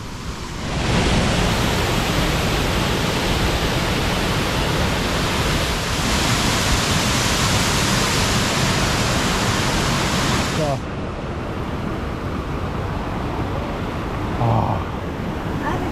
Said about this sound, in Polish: O, tu taki mały wodospad.